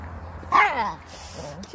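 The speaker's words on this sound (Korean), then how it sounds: "짖지 마." A small white poodle, fourteen years old, on a spring mountain walk gives a short whimpering yip and bark at close range, with a person speaking around it.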